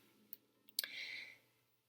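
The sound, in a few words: tarot cards being shuffled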